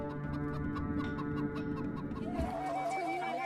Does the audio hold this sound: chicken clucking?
yes